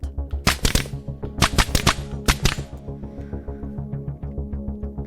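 A full-auto rifle fires in a VR shooter game, crisp close shots in quick bursts over a low mechanical hum, then the shots fade to softer, sparser pops.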